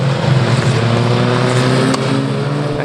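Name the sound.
historic Formula Ford 2000 race cars passing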